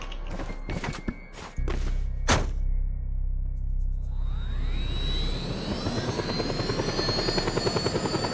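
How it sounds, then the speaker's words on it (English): A helicopter in Just Cause 2 spins up after a few thuds and footsteps, its rotor settling into a loud, steady rhythmic chopping with a rising whine that stays close. "There's a chopper."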